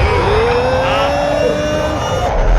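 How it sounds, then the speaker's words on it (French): A missile accelerating in Modern Warfare 2, heard as a loud, steady engine-like roar with a rising whine that climbs and holds before cutting off, with no voices. "Et hop, on accélère le missile."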